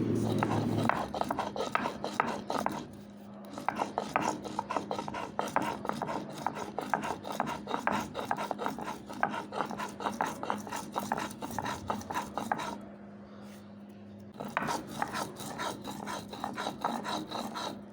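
Raw cumin seeds being ground into a paste, a steady rhythmic rasping and rubbing of stone strokes repeating close by, with a brief pause partway through.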